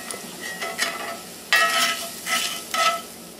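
Garlic sizzling in a pan over low heat, a soft steady frying hiss with several louder bursts of crackle and stirring, close and alone with no talk.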